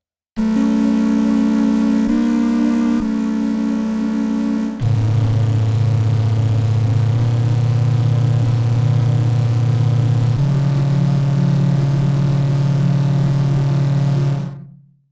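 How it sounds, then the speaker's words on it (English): Chords from an OP-1 Field synthesizer running its voltage engine, sustained and loud, shifting through several held chord changes with a deep bass tone underneath, then cutting off at the end. "chords using the voltage engine, because you can also have two oscillators in the engine and then again phone effect"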